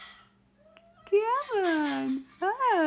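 A pet cat named Puddy meows in a few drawn-out, rising-and-falling cries, close and fairly loud, with a person's voice nearby.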